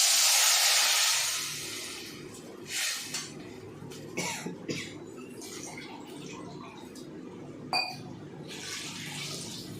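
Rasam is poured into a hot garlic tempering in a pan, with a loud splashing pour at first, then a steady bubbling, sizzling simmer and a brief cough nearby.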